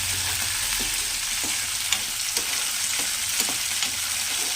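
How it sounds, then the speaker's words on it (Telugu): Green chillies fry in hot oil for cabbage chutney, a steady loud sizzle with light stirring scrapes, close up and without speech. "ఆయిల్ అయితే వేడెక్కిందండి మనం ఫస్ట్ పచ్చిమిర్చిని అయితే యాడ్ చేద్దాం ఇలా చక్కగా పచ్చిమిర్చిని అయితే చక్కగా దూరగా వేయించుకోవాలి"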